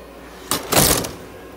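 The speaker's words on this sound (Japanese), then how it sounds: "扉閉めます" A small enclosure door on a chinchilla's ICU warming and oxygen unit slides and shuts close up: a soft scrape followed by a brief rattling clunk, alone with no talk.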